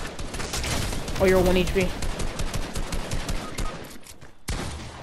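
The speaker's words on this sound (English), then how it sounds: "I'm shooting down." Rapid bursts of gunfire in the Fortnite video game (Season 6), dense rattling shots that continue for several seconds with brief gaps, loud and close, while a player talks over them.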